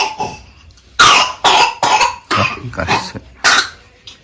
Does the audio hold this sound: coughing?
yes